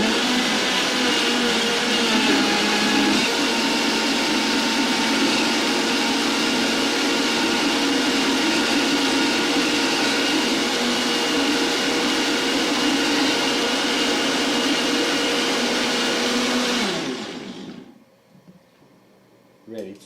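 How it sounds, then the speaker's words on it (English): A high-speed power blender whirs loudly and steadily while blending a green raw vegan smoothie, a continuous close motor roar with a slight pitch change early on, then cutting off sharply near the end. "So let's blend."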